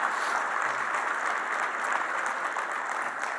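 An audience claps at a talk, a steady patter of applause at moderate level lasting the whole moment with no voices over it.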